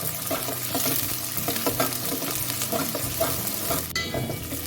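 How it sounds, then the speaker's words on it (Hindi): Onions fry in oil for a tempering in a pot, a close, steady crackling sizzle broken by frequent stirring scrapes, continuing throughout without voices. "इसके साथ हम इसमें डाल देंगे 2 अदद बघार के लिए प्याज"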